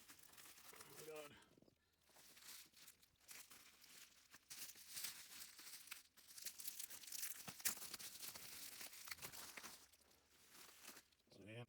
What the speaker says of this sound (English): pull scissors out and just cut through all that packing tape